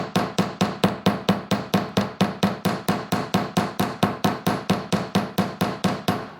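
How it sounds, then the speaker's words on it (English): A hammer strikes a wire bangle bracelet over and over to harden it, a fast, even run of about thirty sharp metallic taps, loud and close, with no voices. "And this is going to really harden your bracelet."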